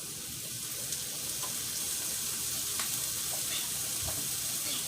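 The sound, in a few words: soy sauce added to sizzling frying pan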